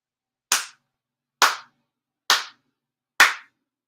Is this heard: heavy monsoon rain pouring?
no